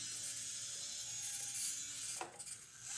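Orlandoo Hunter 100mm miniature RC crawler driving flat out at its top speed, giving a faint, steady whir of small motor and gearbox with a light mechanical rattle near the end.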